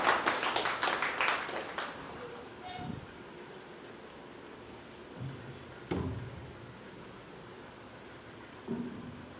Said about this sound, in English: Give him a huge round of applause and invite him with your clap, guys.